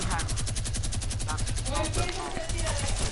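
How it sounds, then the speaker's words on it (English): Rapid, steady gunfire in Fortnite Save the World, a continuous stream of shots running the whole time with chatter and game sounds underneath. "Let me just shoot this thing down."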